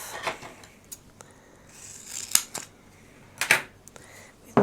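Regular scissors trim a piece off wide flooring tape, giving a few distinct close snips and crisp clicks spread across a quiet background.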